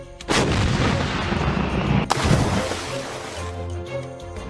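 Cannon fire from a pirate ship in the Lego Pirates video game: two loud booming blasts, the first near the start and the second about two seconds later, each followed by a rumbling, splashy tail.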